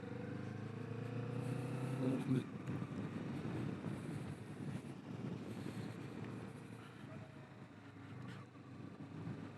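A Kawasaki Vulcan S engine hums through town at a moderate, even pitch, rising briefly as the throttle opens and then settling, heavily blended with rushing wind across the microphone.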